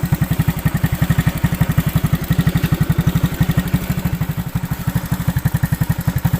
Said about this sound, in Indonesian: Ini motornya mogok apa?